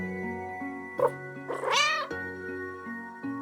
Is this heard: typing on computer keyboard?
no